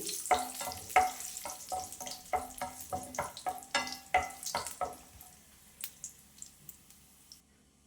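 Raisins and cashews fry in ghee for carrot halwa, heard as a run of quick crackling pops and spatters over a soft sizzle, dense at first and thinning out toward the end, close and without speech.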